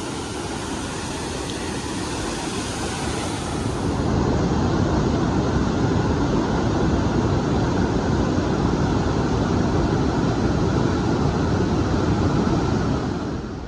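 A river on Yakushima rushes in a steady, loud, broadband roar of flowing water that continues without pause.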